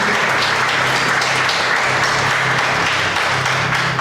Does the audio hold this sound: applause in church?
yes